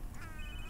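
A landline-style phone rings in The Sims 3 life-simulation game, a short electronic ringing tone running steadily through the whole moment with game background sound underneath.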